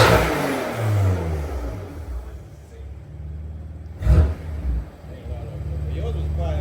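A BMW M4 engine with an AWE exhaust rumbles and revs loudly with low, surging roars, while people talk over it.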